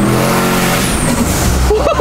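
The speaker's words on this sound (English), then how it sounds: "It just lit up the tires." An 800-horsepower race truck revs hard and spins its tires, a loud, continuous roar of engine and tire squeal close by, rising and shifting in pitch.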